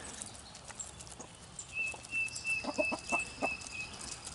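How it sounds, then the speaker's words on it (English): Backyard chickens cluck softly in a few short, separate bursts over faint ambient noise, with a thin high tone drifting through the background. "I just love watching the chickens do their thing."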